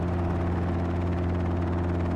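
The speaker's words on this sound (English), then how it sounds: "we'll pick it up and we'll move it off the helipad so some other genius in a helicopter can land" Robinson R22 helicopter in a flight simulator, a steady close rotor and engine drone with strong even tonal hum, continuous and unchanging throughout, with no voices.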